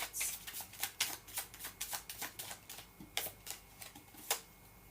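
Tarot cards are handled and laid out close up, giving a soft, irregular series of crisp flicks and slaps against a quiet background.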